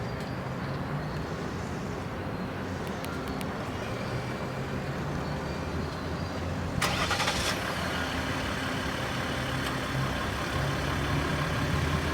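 A 2014 Ram 1500 EcoDiesel Laramie Limited diesel engine fires up partway through with a sudden broadband burst, then settles into a quiet, steady idle over constant background rumble.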